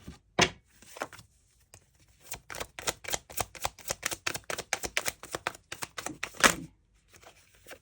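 Tarot cards are shuffled and one is drawn from the deck, a rapid run of crisp papery flicks and riffles, close and fairly loud, with no talking over them.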